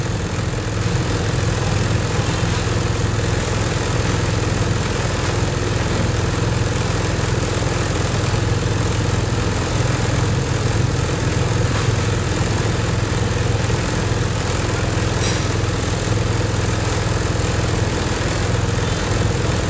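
A repaired 2010 Honda Air Blade scooter engine idles steadily and close by, a continuous even drone with no change in speed and no voices throughout.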